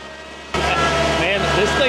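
A tractor engine drives hard, pulling a 7-foot dual blade grader over rough, rocky ground: a steady, loud low rumble that starts abruptly and continues evenly with faint rattles on top.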